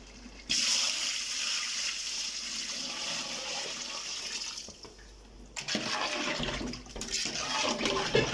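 Water poured into a cooking pot while making chicken thalapakatti biryani, a steady rushing splash that runs several seconds, briefly drops off, then resumes with bubbling and sloshing; no talking.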